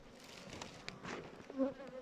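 Honeybees buzz inside a sparsely populated hive, a faint, close, wavering hum with a few louder swells. No voices are heard.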